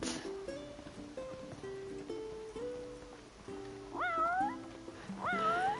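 Cat in the video game Final Fantasy XV meowing twice, clear rising and falling calls over a soft melodic music backing, fairly close and alone without talk.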